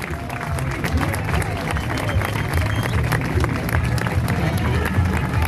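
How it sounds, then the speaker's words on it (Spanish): An audience gives loud, dense applause for dancers from a dance academy at an outdoor folk patio show in Termas de Río Hondo, Santiago del Estero, a continuous close clatter of many hands with crowd murmur underneath. "fuerte los aplausos para los chicos"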